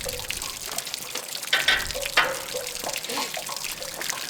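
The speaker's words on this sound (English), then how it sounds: "And just let that drain." Water draining from an RV water heater tank, a steady trickling splash with a few louder gurgles and drips, close and with no talking.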